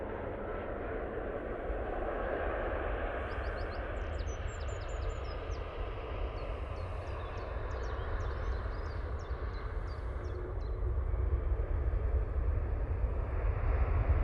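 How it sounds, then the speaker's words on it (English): A TUI Boeing 787-9 Dreamliner arrives at Manchester Airport in low visibility, a faint, steady jet rumble that swells toward the end while small birds chirp briefly overhead. "TUI coming in from Cancun now using the 787-9 Dreamliner."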